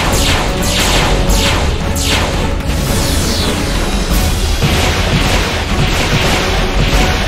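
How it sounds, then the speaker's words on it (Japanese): Defensive artillery fire and explosions in the video game Guilty Gear Xrd, a loud dense barrage of booms and whooshing blasts that roars continuously throughout, with no talk over it. "防衛砲撃、撃ち落とせ。"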